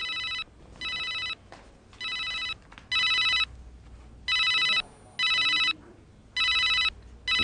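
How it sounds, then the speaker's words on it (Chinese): A telephone rings in repeated electronic bursts, about seven evenly spaced trills with short gaps, clear and fairly close, in a quiet room with no talk. "我接个电话。"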